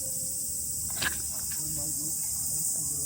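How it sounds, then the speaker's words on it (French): Cicadas shrill loudly and without pause in a warm outdoor setting in Kobe, a dense, high, steady buzz over a quiet background with a few faint thumps. "je sais pas si vous entendez les cigales."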